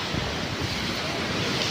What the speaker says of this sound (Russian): Море неспокойное.